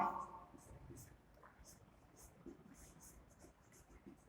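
Marker or chalk strokes on a board during a calculus lesson, a series of short scratchy swishes at a steady pace, faint and close, with a voice talking quietly at the start.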